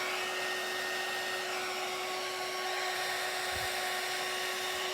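A hair dryer blows continuously on wet black paint on a Christmas tree built from wooden shims, a steady, fairly loud whirring hum throughout with no talking.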